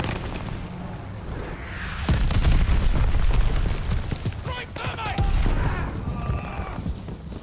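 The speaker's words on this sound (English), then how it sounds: "Friendly bombing run on the way." Bombing-run explosions in Call of Duty: Vanguard: heavy, booming blasts and rumbling impacts roll in repeatedly over several seconds, loud and dense, with gunfire crackle layered throughout.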